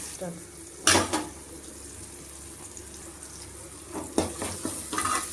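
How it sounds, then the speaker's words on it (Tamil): Tomatoes sautéing in a pan, a low steady sizzle with a few sharper stirring scrapes and clatters near the start and toward the end. "தக்காளி நல்லா மசிஞ்சு வர வரைக்கும் வணக்கிடுவோம்"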